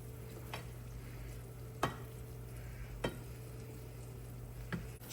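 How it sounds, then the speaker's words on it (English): Pasta being stirred in a pan to melt a slice of cheese through it, a steady low sizzle with a few soft scraping strokes of the utensil, close and fairly quiet, no talking. "We're going to melt that slice of cheese into this pasta."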